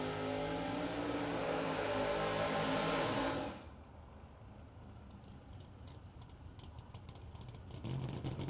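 A 1972 Chevelle drag car's engine roars loud and close at a drag strip, then drops away sharply after about three seconds, leaving a low rumble and faint background noise.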